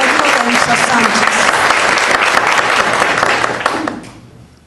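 A church audience applauds its pianist with loud, dense, sustained clapping from many hands, dying away in the final moment.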